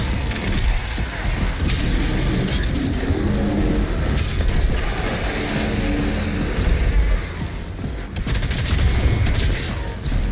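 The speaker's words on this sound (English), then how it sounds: "I'm just launching bombs" Bombs launch and explode in the video game Doom Eternal: The Ancient Gods, a dense run of booming blasts and rapid gunfire-like bursts that continues without a break, with game sounds layered over it and a voice talking underneath.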